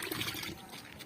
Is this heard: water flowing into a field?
yes